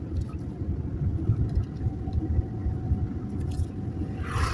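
Inside a moving car, a steady low road and engine rumble fills the cabin, moderately loud and constant, with faint rattles and a brief hiss at the very end.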